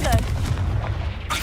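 Confringo blasting spell cast in Hogwarts Legacy, a heavy booming burst that rumbles on briefly before a sharp tail at the end.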